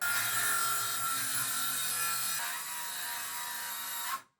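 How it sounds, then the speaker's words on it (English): A hand saw cuts through poor-quality wood held in clamps, making a steady, close rasping that continues without pause, then stops abruptly at the end. "My saw is burning from this."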